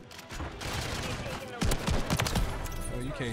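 Gunfire from a Call of Duty Modern Warfare 3 multiplayer match, rapid overlapping shots and bursts packed over a busy, loud game mix, with a voice talking through it.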